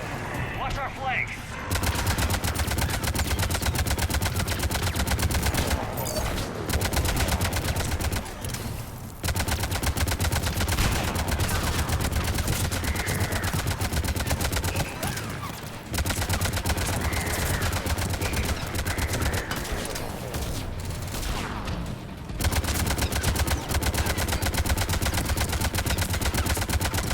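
Sustained automatic gunfire in the video game Mass Effect 3, a loud, dense barrage of rapid shots with only brief gaps, and a person speaking over the shooting.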